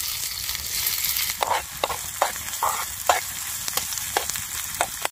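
Onions fry in a pan over a campfire in a deep forest, a close steady sizzle broken by repeated scraping stirs of a spoon.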